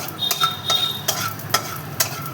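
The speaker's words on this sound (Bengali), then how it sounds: "বাদামটা একটু ভেজা হোক" Peanuts roasting in a pan, stirred with a spatula in repeated sharp scraping strokes over a soft sizzle, close up with no voices.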